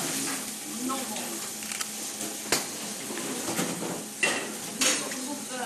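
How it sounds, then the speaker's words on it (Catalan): Endive seasoned with salt and pepper sautéing in a pan, a steady soft sizzle under clinks and scrapes of a utensil against the pan, with a few sharper knocks and a voice talking throughout. "Aquesta escarola hi posarem un punt de sal, hi posarem també un punt de pebre i la deixarem sofregir, no molt."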